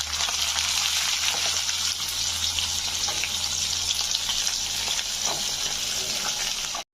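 Shallots sizzle steadily in hot oil alongside ginger for a carrot chutney, a dense, even frying hiss that holds at close range for the whole stretch before cutting off abruptly.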